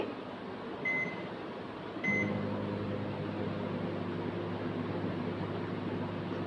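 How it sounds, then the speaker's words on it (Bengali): A microwave oven starts with two short keypad beeps, then its fan and turntable hum run steadily as it cooks a chocolate mug cake in a home kitchen. "এই তো কেকটাকে আমি কিন্তু ওভেনে দিয়ে দিচ্ছি। আর 1 মিনিটের টাইমে আমি সেট করে নিচ্ছি।"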